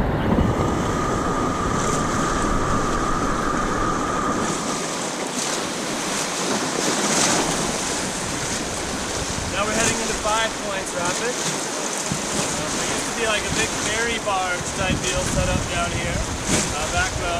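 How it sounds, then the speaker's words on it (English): Loud, continuous rushing of turbulent river rapids in the Royal Gorge, heard from a raft, fills the whole stretch, with broadband roar and buffeting noise throughout. "It's kind of right in the biggest part of the rapid."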